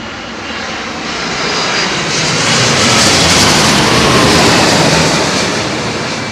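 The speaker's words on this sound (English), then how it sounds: "it's one of those jets that we will hear starting up as well" A jet airliner passes low overhead on arrival to runway 27L at London Heathrow, a loud broad engine roar that builds and peaks close by, then begins to fade.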